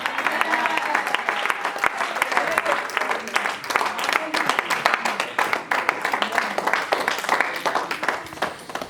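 A church congregation claps and cheers in sustained, dense applause at the end of a sermon, loud and steady throughout with voices mixed into the crowd noise.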